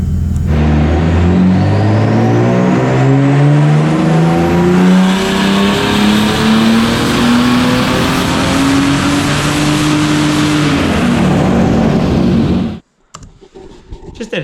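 A turbocharged car engine, freshly rebuilt with new pistons and rods, runs loud and close, its pitch sweeping steadily upward as it revs for about twelve seconds before cutting off abruptly. Faint noises follow.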